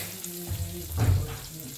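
Garlic frying in oil, a low sizzling hiss that swells briefly near the middle, with faint kitchen clatter around it.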